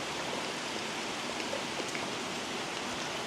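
Rain falls in a forest full of trees, a dense, even hiss of drops on leaves with no voices.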